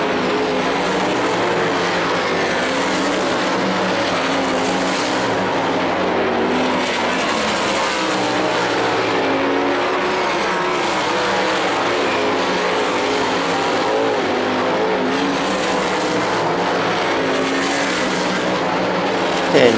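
World of Outlaws race cars at Las Vegas in 2015 roar through an 8-lap heat race, a dense, continuous engine drone that swells and fades slightly as cars pass, loud and steady throughout with no talk.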